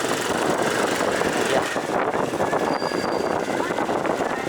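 A learner's motorcycle engine runs smoothly in second gear at low speed, a steady close drone with strong wind buffeting across the microphone throughout.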